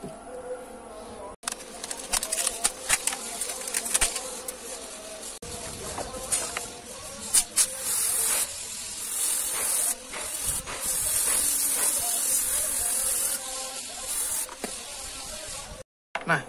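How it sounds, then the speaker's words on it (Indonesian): Cleaner is sprayed onto the filter screen of a car's electric fuel pump in repeated hissing bursts of varying length, close up, with short pauses in between. "Nah ini sekarang saya akan semprot bersihkan bagian saringan filternya ini terlebih dahulu."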